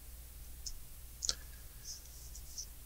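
A computer mouse clicks on a sign-in button, giving a few faint, sparse clicks spaced across a quiet background.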